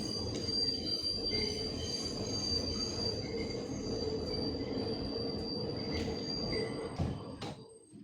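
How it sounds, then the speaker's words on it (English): A passing train rolls by with steady, loud wheel squeal and rumble throughout, easing off near the end. "I hope the train sounds very soothing."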